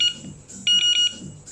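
A Delkim fishing bite alarm, an EV Plus model used for pike fishing, gives a quick run of three loud, shrill electronic beeps in a row, standing alone over quiet background.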